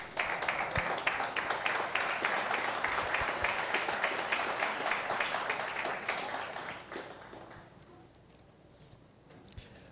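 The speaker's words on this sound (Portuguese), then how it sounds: "Se assente e dê um forte aplauso ao Senhor." Church congregation applauding during a Sunday service, a sustained wash of clapping from many people that thins and tapers off into a few scattered claps.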